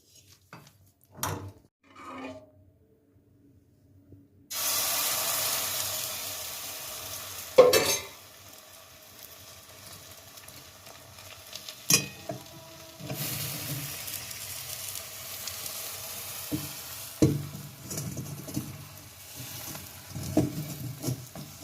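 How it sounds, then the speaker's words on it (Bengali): After a few quiet taps, patishapta pitha batter begins sizzling steadily in a hot oiled pan, with occasional scrapes and clinks of a utensil. "এবার একটু ভাজতে দিই"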